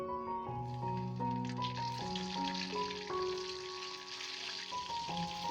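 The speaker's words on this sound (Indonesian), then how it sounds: "Kita goreng sampai tomatnya matang dengan api kecil" Halved red tomatoes fry in oil over low heat for sambal, giving a soft, steady sizzle throughout, fairly quiet and partly covered by background music.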